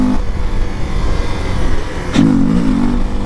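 A Honda XRE 300 Rally motorcycle idles with a low rumble at night, then the rider blips the throttle on the clutch for a sharp, close rev that wavers and holds near the end.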